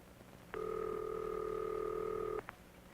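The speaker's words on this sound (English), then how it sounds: "When you have completed dialing, listen for the ringing signal." A steady electronic telephone ringing signal, heard after dialing on a 1954 dial telephone, holds for about two seconds over quiet background hiss, then stops abruptly.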